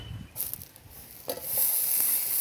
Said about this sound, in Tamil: இப்போ இதில் நம்ம 100 கிராம் வெண்ணெயை சேர்த்துருவோம்.